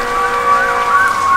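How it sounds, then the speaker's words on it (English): An emergency vehicle siren wails and wavers at a distance during an ice storm, rising and falling over a steady wash of rain. "emergency vehicles are going crazy."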